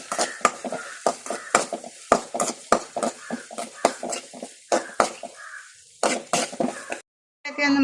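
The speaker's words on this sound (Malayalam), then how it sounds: "പെരുംജീരകം ചൂടാകുമ്പോഴത്തേക്ക് ഒരു ഉണക്കമുളക്, അല്പം കരിവേപ്പില, ഒരല്പം ചെറിയ ഉള്ളി ചെറുതായിരുന്നത്, ഇതെല്ലാം ഇട്ടൊന്ന് വാട്ടാം" Dried chilli, curry leaves and chopped shallots sautéed with fennel seeds in a hot pan: a spatula scrapes and clinks steadily against the metal over a light sizzle, while a voice talks throughout.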